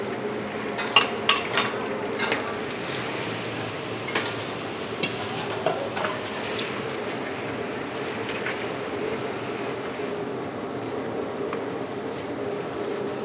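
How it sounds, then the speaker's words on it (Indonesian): Garlic, spice paste and egg sizzling and frying together for a big batch of village-style nasi goreng, a steady crackle with a few sharp scraping knocks near the start. "Bumbu ekso, bawang putih sama telur kita masak dulu ya."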